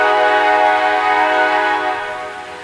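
A train passing at Perryville, Maryland sounds its horn in one loud, sustained, steady blast that slowly fades as it ends.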